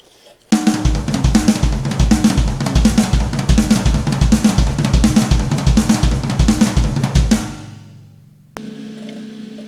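A drum kit plays a fast, busy fill with rapid tom and kick hits and crashing cymbals, loud and close, ending in a ringing decay.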